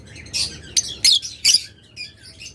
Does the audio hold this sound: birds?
yes